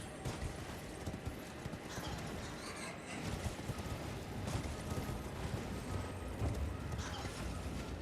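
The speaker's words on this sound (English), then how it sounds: "Get on the fucking horse." Horse hooves clip-clop in the video game Elden Ring, a steady galloping patter running throughout amid dense game sound effects at moderate level.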